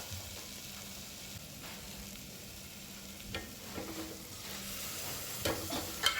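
Sambar powder mixture is stirred in a pot, a soft, quiet sizzle with scattered spoon scrapes and taps that grow slightly louder toward the end.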